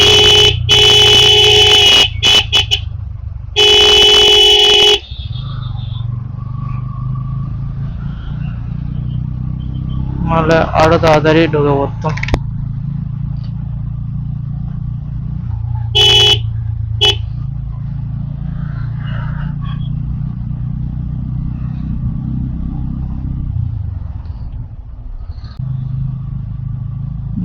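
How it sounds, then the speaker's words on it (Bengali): Engine noise of a motorbike idling and creeping through a highway traffic jam packed with trucks, lorries and dumpers, with loud horn blasts and someone talking over the drone. "জামটা একবার দেখো, কত গাড়ি, দেখো গাড়ির জাম"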